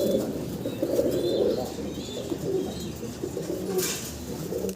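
A pair of large American Lakkha pigeons cooing softly nearby, low throaty coos repeating over a steady background, with faint chirps and no talk.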